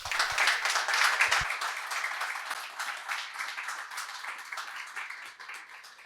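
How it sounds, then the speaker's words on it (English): A small audience at a community breakfast claps for a speaker, fairly soft and steady, the clapping slowly thinning over several seconds. "Let's give a round of applause for Sami."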